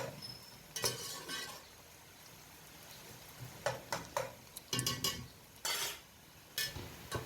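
Onions dropped into a pot and stirred as they begin to brown, with a scatter of scraping, clinking strokes over a faint, steady sizzle; moderately close and fairly quiet, with no one talking.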